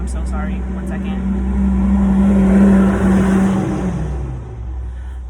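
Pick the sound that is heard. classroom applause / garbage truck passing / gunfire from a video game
garbage truck passing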